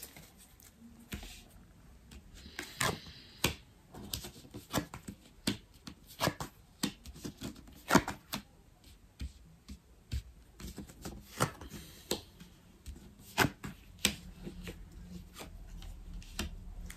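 Tarot cards shuffled and dealt by hand, a long run of crisp riffling flicks and soft slaps in an irregular rhythm, close and fairly quiet, with no talking.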